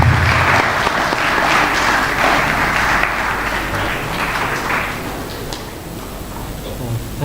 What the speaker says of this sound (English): Could you please give a big hand round of applause?